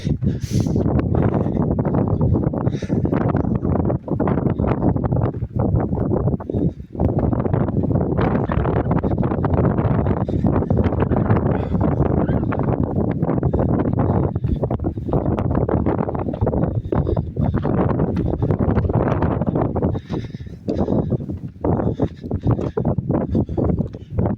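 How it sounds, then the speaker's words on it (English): Strong wind gusting across the microphone while hiking at Parowan Gap, a loud continuous roar and buffeting that fills the whole stretch with only brief dips, and no voices heard. "And you guys can hear the wind"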